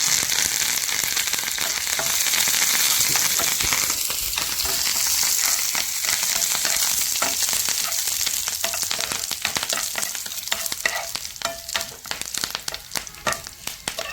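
Onion frying in hot oil with dried red chillies and curry leaves, a steady loud sizzle throughout, with stirring scrapes growing more frequent toward the end.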